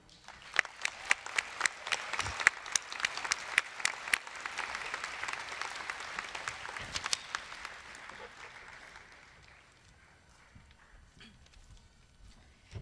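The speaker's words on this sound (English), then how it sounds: "We applaud you" Applause for a graduating class at a 2011 Learning Corner graduation ceremony: scattered sharp claps build into a steady round of clapping, then fade away toward the end, leaving quiet room tone.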